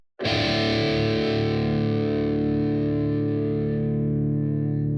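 A single loud, distorted chord on a vintage Japanese Burnley Les Paul-style electric guitar is struck and left to ring out, sustaining with a slight shimmer before cutting off.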